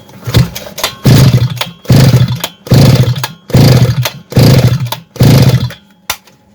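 A Kitprom petrol brush cutter engine is pulled repeatedly with the throttle held, giving six or seven loud, close bursts of sputtering roar about a second each, each dying away before the next pull.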